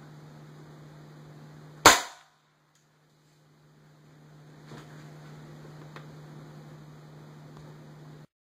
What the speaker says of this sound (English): I'll be shooting H&N Barracuda green pellets into the ballistics gel and the Play-Doh out of a Crossman American Classic in 177 caliber at 10 pumps